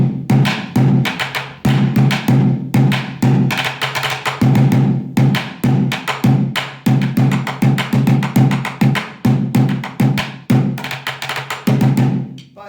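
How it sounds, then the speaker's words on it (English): Drumsticks beating out a steady improvised groove on a single plastic bucket, alternating deep hollow thumps and sharper rim hits, loud and close with no voices. "If you're doing it on one bucket, it could sound something like this."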